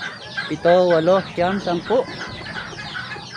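Red junglefowl roosters crow close by in several strong, wavering calls, with softer clucking around them before and after.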